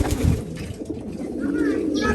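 A black pigeon gives soft, low cooing close by, the throaty murmur rising over steady background noise.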